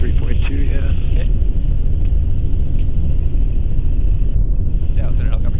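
Constant loud engine drone and rotor noise fill a helicopter cockpit during an instrument training flight, a steady unbroken roar with no clear speech over it.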